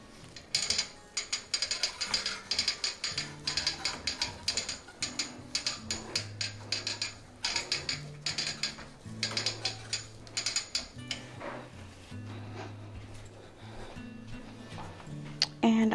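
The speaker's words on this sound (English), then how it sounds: "I'm going to actually roll the quilt up" A Handi Quilter Moxie XL quilting frame rolls the quilt up with rapid ratcheting clicks and mechanical clatter, repeated in bursts along with a low motor hum.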